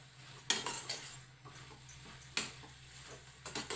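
Salted carrot palya being stirred in a pan, with a few sharp metallic spoon scrapes and clinks against the pan over a low steady background hum; no talking.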